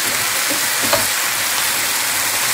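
Potatoes with green and red peppers sizzle steadily in a frying pan, a close, even crackle with a faint clink of stirring partway through.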